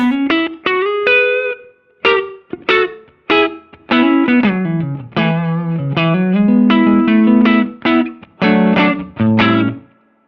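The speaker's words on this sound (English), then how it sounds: "A lot of reverb mixed in with a short decay." Clean electric guitar notes and chords through a Fender Princeton-style Silktone amp with heavy reverb, each strum blooming into a wide, lingering reverb wash.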